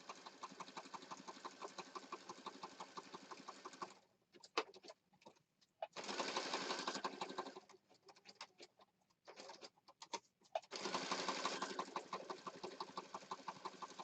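A sewing machine stitches around a word on a junk journal cover in rapid, steady bursts, pausing twice between runs and then resuming.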